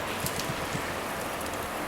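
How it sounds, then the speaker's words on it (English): A steady crackling sizzle of vegetable oil heating in a wok, with a dense hiss and scattered small pops up close. "Heat up some vegetable oil in a wok."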